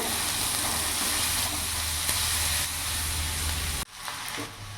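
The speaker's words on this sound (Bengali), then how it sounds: "পেঁয়াজটা একটু ভাজা ভাজা করে নেব যাতে পেঁয়াজের কাঁচা ভাবটা চলে যায়" Finely chopped onions fry in hot oil for a rohu fish bhuna, giving a loud, continuous close sizzle with faint stirring. The sizzle drops off abruptly near the end, leaving a quieter pan.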